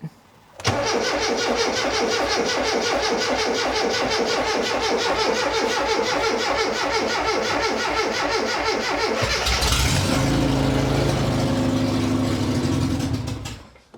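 A 50-year-old car engine cranks with a rapid rhythmic chugging for several seconds, then catches and roars into a loud, rough idle.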